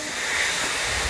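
A Jiayang steam train releases a steady, soft hiss of steam, a brief continuous rushing sound at moderate level with no voices.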